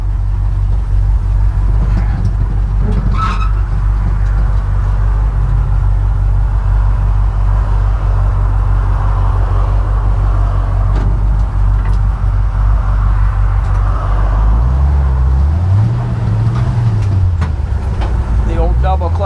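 A 1957 Dodge Power Wagon truck driving: a loud, steady low engine drone fills the cab, rising and falling in pitch as the driver double-clutches through the gears, with someone talking over it at times.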